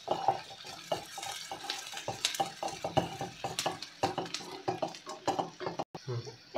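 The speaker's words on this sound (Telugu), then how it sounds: "ఈ అల్లం వెల్లుల్లి పేస్ట్, ఈ ఆనియన్స్ అన్నీ మిక్స్ అయ్యేలా కలుపుకోవాలి" Onions and ginger-garlic paste being stirred in a pan for samosa filling, a string of close scraping and clinking strokes of a utensil against the pan in an irregular rhythm, alone without talk.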